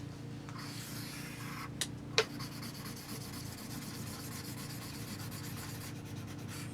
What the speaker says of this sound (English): you could draw the sunlight